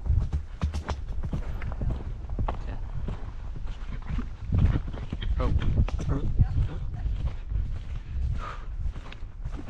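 A horse's hooves thud and clop in an irregular rhythm during a training session, close and fairly loud, with a person's voice heard now and then over the steps.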